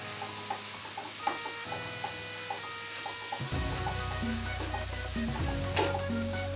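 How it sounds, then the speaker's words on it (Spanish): Onion and zucchini stirred in a frying pan: light spoon taps and scrapes at first, then a louder, constant sizzle under continued stirring, close up. "Vamos a revolver bien lo que es la cebollita con el zapallo."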